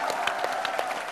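Studio audience applause on a Metro TV talk show, a short, dense burst of clapping that fills the moment at steady loudness, with faint voices mixed underneath.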